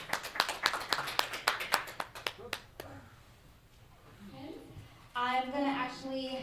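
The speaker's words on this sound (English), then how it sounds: "Big round of applause for Ben." A short burst of clapping at a press conference, sharp individual claps fading out within three seconds, followed by quiet room noise and then someone speaking.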